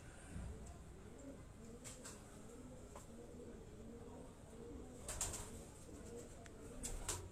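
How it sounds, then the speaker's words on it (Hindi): Cap-breed pigeons coo in a steady, overlapping murmur of low rolling calls throughout, with a few faint sharper sounds from nearby and a light background hum. "ये उनके घर की ये टोपी वाली ब्रीड के ये कबूतर हैं"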